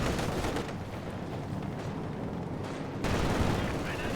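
Heavy mortar fire in a strategy video game booms as dense, rumbling blasts that run together, with a louder burst near the end.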